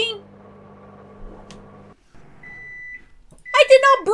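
A microwave oven in a video game hums steadily, then lets out a single sustained beep before a person starts talking loudly over it.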